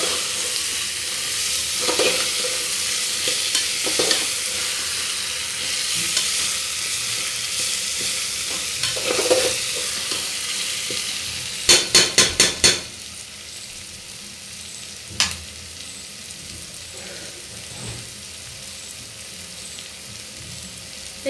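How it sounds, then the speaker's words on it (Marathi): Coriander powder masala sautéed in a pan for prawn rice gives a steady low sizzle with occasional stirring scrapes, plus a brief cluster of metallic clinks and one later tap. "धना पावडर छोटे चमचे 2 ते 3 आवडीप्रमाणे व्यवस्थित परतून घ्यायचं आहे।"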